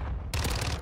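Video game gunfire cracks in a dense, loud burst of rapid shots that starts abruptly partway through and continues to the end.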